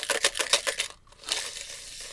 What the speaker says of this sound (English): you can make different sounds just by swishing it a different way